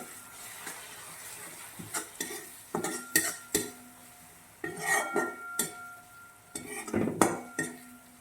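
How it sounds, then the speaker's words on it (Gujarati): Spiced dry pigeon pea curry being stirred in a pan with a spoon, producing a series of scraping clinks and taps against the metal, irregular and fairly close, with a faint sizzle between strokes. "હવે આપણે આને બરાબર મિક્સ કરી દઈશું"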